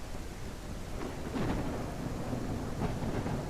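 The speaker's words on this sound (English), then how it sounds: "this thunderstorm is actually incredible" Thunderstorm in the train game Railroads Online: steady rain hisses while deep rolls of thunder swell and rumble, loud and close, with no voices.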